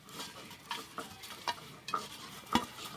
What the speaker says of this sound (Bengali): এই যে প্রত্যেকটা ডিমের গায়ে খুব ভালো করে লবণ, হলুদ, লঙ্কা গুঁড়ো মিশিয়ে নিয়েছি